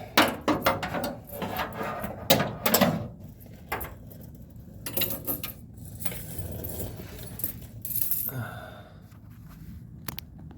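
Brake pin on a 1968 Camaro being hammered out during rear brake line removal: a series of close, irregular metallic knocks and taps with clattering in between, loud and unaccompanied by talk.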